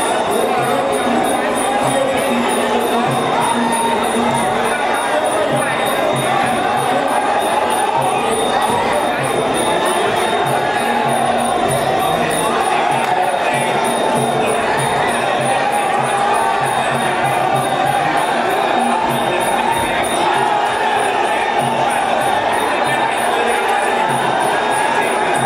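Dense crowd noise at a Muay Thai fight, a steady roar of cheering and shouting that holds through the whole stretch with no clear pauses, loud and continuous.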